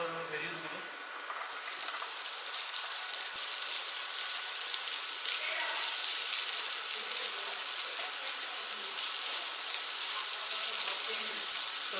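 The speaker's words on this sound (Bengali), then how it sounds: "তো ভেজিসগুলো স্টার ফ্রাই করা হয়ে গেছে।" Vegetables stir-frying in hot oil in a home kitchen, a steady close sizzle and crackle that holds for the whole stretch.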